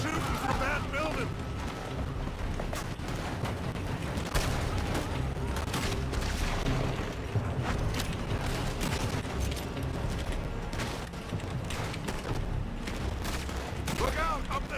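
Gunfire in Red Dead Redemption 2 crackles in a dense, continuous fusillade of overlapping shots with a steady mechanical clatter, heard alongside shouted speech throughout.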